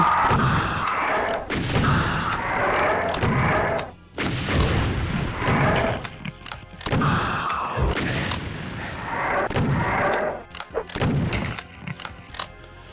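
Gunfire aimed at revenants in the video game DOOM Zero, played on PS5: a rapid series of loud, close booming shots in several bursts, separated by brief pauses.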